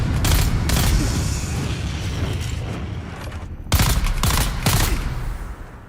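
Gunfire in the video game Dune Awakening comes as loud, dense bursts of rapid shots and booms, pausing for a stretch before resuming in heavy volleys.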